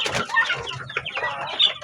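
A rooster clucks and calls in a quick run of short, close, throaty bursts, fairly loud and alone over a brief stretch.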